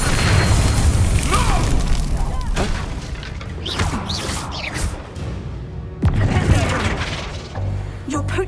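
A Confringo spell in Hogwarts Legacy erupting in loud, sustained booming blasts and crashes, with a sharp renewed burst partway through and rumbling debris between, dense and close.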